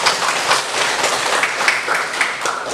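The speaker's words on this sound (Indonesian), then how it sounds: "tepuk tangan dulu" A class of students applauds together in a classroom, a steady, dense patter of many hands clapping close by for a few seconds, with faint voices mixed in.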